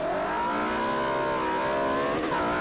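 Porsche race car engine in the Forza Motorsport 4 video game, loud and close, revving hard with a steady harmonic whine that climbs in pitch and stays strong and continuous throughout.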